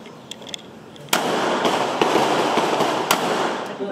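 Gunshots from a police narcotics-unit shooting practice drill under pressure: one sharp, loud report followed by a couple more bangs over a continuous roar of background noise.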